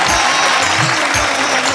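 Audience applause at a Bhojpuri talent show, a dense steady roar of clapping from a large crowd that fills the whole stretch without a break.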